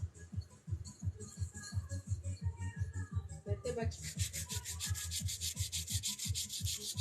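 A 180 grit pink crystal file scrubs across acrylic nails in quick rhythmic back-and-forth strokes, close up, first low and thumping, then turning to a brighter, faster rasping hiss for the last few seconds.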